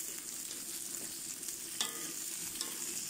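Onion and capsicum stir-fried in a pan for chicken patiala give a steady soft sizzle, with a couple of sharper scraping stirs of the spatula, close and without talk.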